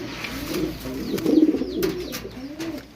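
A beauty pigeon coos in soft, throaty rolling phrases, close by and repeating over about three seconds.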